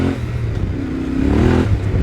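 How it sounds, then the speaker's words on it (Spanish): Yamaha Ténéré motorcycle fitted with an aftermarket exhaust, its engine running with a deep, throbbing rumble that swells briefly as the throttle opens, close and loud. "Esta lleva montado un tubo de escape, por lo que el sonido lo notaréis diferente."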